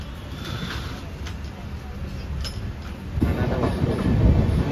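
A train rumbles steadily along the tracks near Kottavalasa Junction on the Vizag to Araku line, with low clattering and a faint hiss, growing louder toward the end, with muffled voices underneath.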